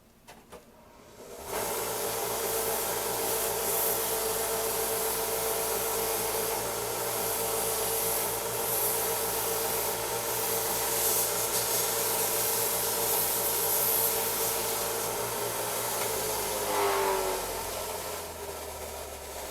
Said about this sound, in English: I just got to shave this off.